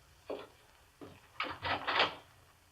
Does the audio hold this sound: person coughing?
no